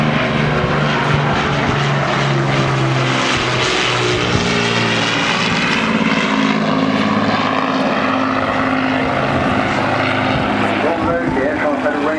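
A Spitfire propeller fighter flies past at the 2011 Southport Airshow. Its engine gives a loud, continuous droning roar whose pitch slowly shifts as it passes, with a voice talking over it.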